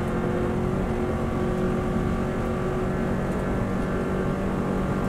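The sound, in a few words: Subaru WRX STI accelerating on the Isle of Man TT course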